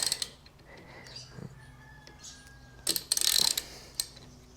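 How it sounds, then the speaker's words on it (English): A ratchet with a 14mm socket tightens a bolt on a VL250 bobber motorcycle. Quiet mechanical clicking comes in short, close bursts, loudest near the end, with no talking. "it's just a 14mm on a ratchet"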